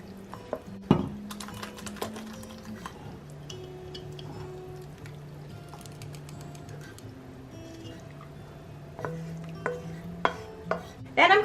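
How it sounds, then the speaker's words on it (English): A spoon stirs macaroni through a thick cheese sauce, giving soft scraping and clinking against the pot with a few sharper knocks, close and fairly quiet with no talk. "So we're just going to mix this up and to let the macaroni absorb the cheese sauce."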